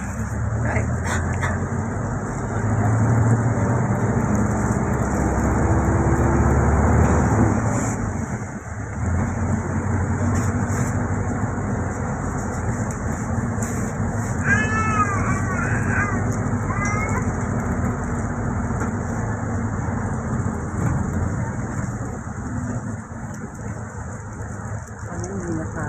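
Steady road traffic in Manila heard from a waiting passenger vehicle, a continuous low engine and road rumble that eases partway through, with a few faint voices and a brief animal sound in the background.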